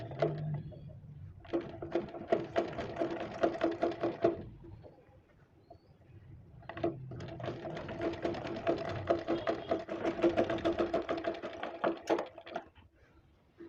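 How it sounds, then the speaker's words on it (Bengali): A sewing machine top-stitches salwar fabric in two long runs of rapid, steady mechanical stitching, with a short pause between them and soft handling sounds. "এখন এর উপর চাপ সেলাই দিয়ে নেব।"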